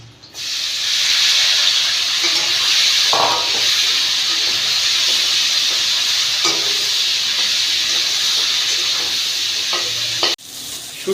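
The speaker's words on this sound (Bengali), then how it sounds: "এবার এর তেলেই শুটকিটাকে ভেজে নেব।" Dried fish (shutki) fries in the oil left from duck eggs, a loud, steady hissing sizzle that runs almost unbroken for ten seconds, with occasional faint stirring knocks.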